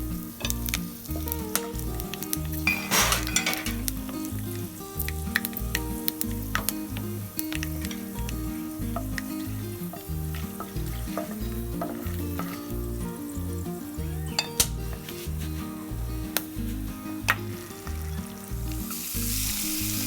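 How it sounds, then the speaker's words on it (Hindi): Cloves, green cardamom and other whole garam masala spices dropped into hot oil for mutton bhuna masala, a loud, steady crackling sizzle with frequent sharp pops and occasional stirring, close by. "तेल गरम हो गया। अब इसमें लौंग, छोटी इलायची और बाकी खड़े गरम मसाले डाल देते हैं।"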